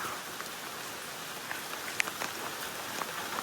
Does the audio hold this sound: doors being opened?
no